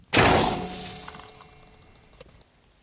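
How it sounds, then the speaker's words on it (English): A video game cash-out sound effect: a bright glassy clinking burst, like coins or chimes cascading, ringing out and slowly fading with a few scattered tinkles at the end. "I think it's the sound when you cash out, it's finished."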